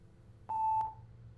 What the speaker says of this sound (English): We're getting that beep.